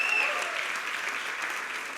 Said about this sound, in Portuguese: uma salva de palmas, aleluia